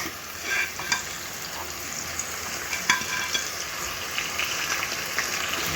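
Pork chops on the bone frying in a pan, giving a steady, dense, close sizzle with a few brief crackles and faint utensil clicks, and no talk over it.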